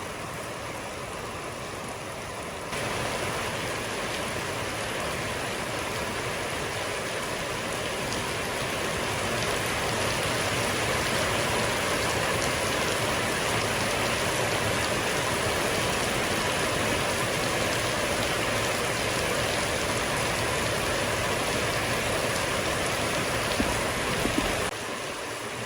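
Heavy monsoon rain pours steadily on a mountain village, a dense, continuous hiss of drops on surfaces with a faint stream-like rush beneath, loud and unbroken throughout with no talking.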